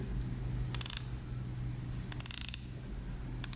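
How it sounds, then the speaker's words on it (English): Bursts of small, crisp ratcheting clicks from an Orient Ray 2 dive watch's unidirectional bezel turning anti-clockwise, in quick, even succession, separated by short pauses, close and fairly quiet over a low hum. "we can hear these very solid and steady clicks"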